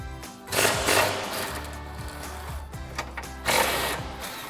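A pneumatic impact wrench with an extension and 15 mm socket works on bolts of a 2011-2014 Mustang GT exhaust, two short loud rattling bursts about three seconds apart, close by, with no talk.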